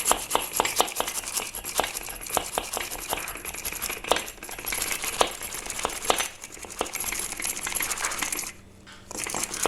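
A spoon stirs instant coffee, sugar and hot water in a cup for dalgona coffee, giving rapid, close metallic clinks and scraping in a steady rhythm with a brief pause near the end.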